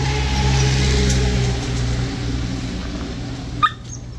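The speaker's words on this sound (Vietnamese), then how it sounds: "Là những cái chú chó hông mông cộc đuôi này." H'Mong bobtail dogs in Vietnam whimper and yip over a steady, droning engine-like hum, with one sharp yelp standing out near the end.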